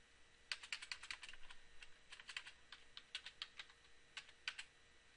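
A computer keyboard is typed on in quick bursts of light clicking keystrokes while a debug command is entered, close and fairly quiet over a steady faint hum, with no speech.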